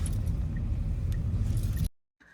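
A car drives through foggy Gangtok at night, a steady low engine and road rumble with faint rattles inside the cabin that cuts off abruptly near the end.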